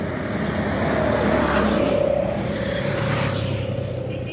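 Heavy trucks rumble across a road bridge over a river, a steady loud roar of engine and tyres with a droning tone that swells midway, with no talk.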